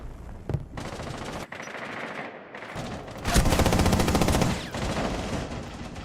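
Rapid automatic gunfire in a Rainbow Six match, loud and close, with repeated bursts of shots spread across several seconds and short pauses between them.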